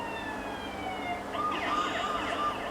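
A wailing ambulance siren in the video game Watch Dogs sweeps up and down in a steady cycle, mid-distance, over a low background rumble.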